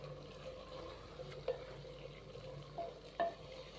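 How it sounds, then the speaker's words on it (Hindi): A spoon stirs carrot, cauliflower and pea sabzi in a pot, with soft sizzling and bubbling underneath and a few light clinks of metal against the pot, close and fairly quiet, no talking. "एक दफ़ा हल्का सा मिक्स करेंगे।"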